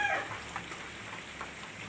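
Light rain falling outdoors around a pigeon loft, a soft, steady hiss of drops that runs the whole time, with a brief high chirp at the very start.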